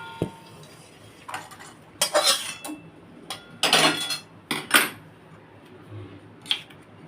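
Fried eggs mixed in a bowl with salt and a little mustard oil: irregular metallic clinks and scrapes of a spoon against the dish, close and intermittent with quiet gaps between.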